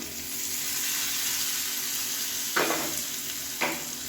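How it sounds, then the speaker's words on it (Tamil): Mustard seeds, urad dal, asafoetida, curry leaves and two broken dried red chillies frying in hot oil for a mint-coriander chutney tempering: a steady, close hiss with two brief louder bursts of crackle. "எண்ணெயில் கடுகு, உளுந்து, பெருங்காயம், கருவேப்பிலை, 2 வரமிளகாயை கிள்ளிட்டு சேர்த்துட்டு நல்லா பொரிய விட்டு சேர்த்துக்கலாம்"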